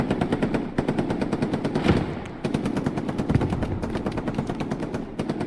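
Rapid machine gun fire in a multiplayer war video game rattles in steady, close, loud bursts, with a brief pause midway before the rhythmic shots resume.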